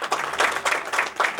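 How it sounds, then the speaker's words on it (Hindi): An audience at a religious gathering claps for children in a short burst of applause, moderately loud, rising and falling in waves, with no speech over it. "ये बच्चों के लिए ताली बजाएंगे"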